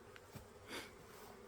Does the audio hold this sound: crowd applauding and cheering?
no